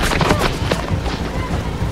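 Gunfire from military jeeps rattles through a tense war film scene, a dense, continuous barrage of shots and booming impacts filling the whole stretch at close range.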